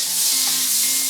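Margarine sizzling in a frying pan, a steady bright hiss and crackle of melting fat, close and continuous with no voices.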